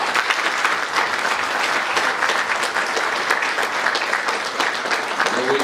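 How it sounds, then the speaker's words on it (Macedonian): Dense, steady applause from a large crowd at a Liberal Party congress, loud and continuous throughout with many overlapping claps. "И за тие луѓе барам аплауз"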